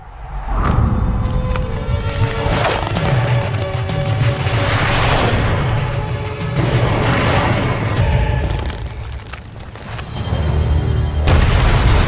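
Bomb explosions in a Marvel: Ultimate Alliance 2 cutscene: heavy booming blasts and crashing debris roll on continuously, loud and dense, with a brief dip near the end before another burst.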